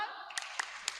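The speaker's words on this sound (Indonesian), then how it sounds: "tepuk salut dulu untuk Andin" Rhythmic 'tepuk salut' salute clapping during a children's church service, three sharp separate claps spaced evenly apart, close and distinct over a faint background of voices.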